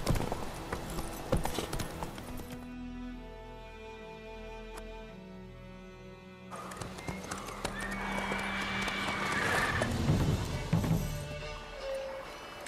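Horse hooves clip-clop in The Witcher 3 game, a steady trot that fades into a quiet stretch and then returns louder alongside a whinny and game sounds.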